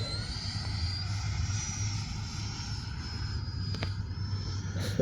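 An E-flite 80mm F-16 RC jet flies slowly at high alpha. A steady, moderately distant ducted-fan whine holds nearly constant throughout, with a low rumble beneath it.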